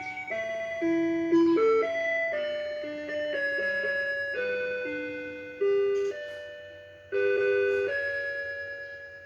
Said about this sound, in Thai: พอถึงเวลาสิบโมงเขาก็จะปลุกนะครับ ก็จะบอกเวลานะครับ จะบอกเป็นหลายๆเสียงนะครับ